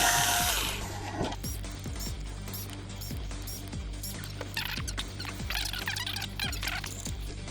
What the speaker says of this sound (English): Next, we'll remove the remaining hex screws.